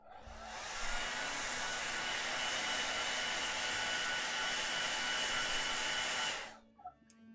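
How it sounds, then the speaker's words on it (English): A hair dryer roars steadily at close range for about six seconds, then cuts off, leaving a few small clicks and handling noises. "it's gonna be noisy for a second. I have to turn on the hairdryer."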